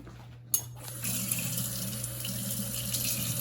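Purified water from a tap filling a quarter-cup measure in a kitchen, a click and then a steady close splashing stream running without pause, no voices.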